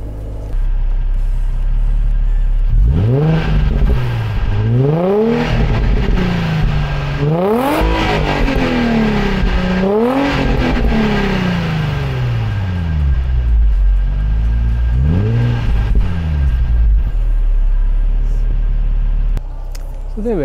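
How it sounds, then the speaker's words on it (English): Warmed-up Nissan 350Z Nismo engine blipped several times: loud, close revs that rise sharply and fall back, spaced a few seconds apart over a steady low idle rumble. "I'll let it heat up and then I'll give the engine a couple of blips and you can hear it."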